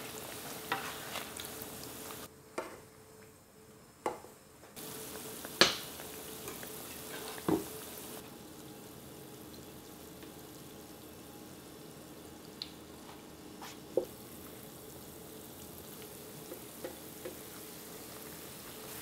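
Homemade Korean fish cakes (eomuk) fry gently in a pan over really low heat, giving a faint steady sizzle broken by a few sharp clicks and scrapes as they are turned.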